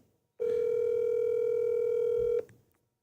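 A telephone dial tone sounds loud and steady for about two seconds, then cuts off with a brief click, heard alone without talk.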